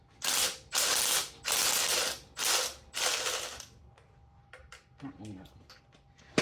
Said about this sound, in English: I remove the fuel rail. So I'm gonna go ahead and do that. 10 millimeter bolts